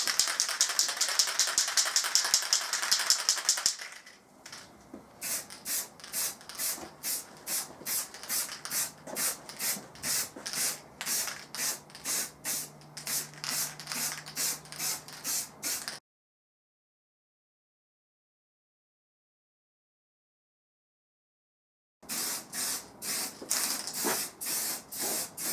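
Army issue flat black spray paint hisses from a can in a garage in rapid, regular short bursts, loud and close, with a long spray at the start and a silent pause before the quick bursts resume.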